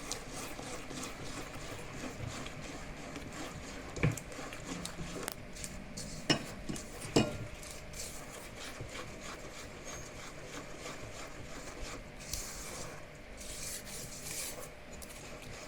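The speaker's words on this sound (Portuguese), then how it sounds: "Essa aqui precisa de um braço um pouquinho mais forte para misturar." Thick homemade bread dough stirred in a bowl, a continuous close rubbing and scraping with a few sharper knocks of the utensil against the bowl, steady and moderately faint throughout.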